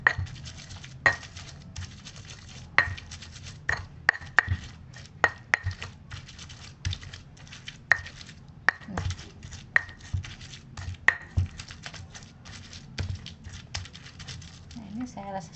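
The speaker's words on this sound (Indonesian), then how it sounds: "Kita masih menumbuk bumbunya ya, ini masih kelihatan kasar ya" Spices being pounded in a mortar give sharp, irregular thuds close by, repeating steadily in loose rhythm with occasional softer grinding scrapes between strikes.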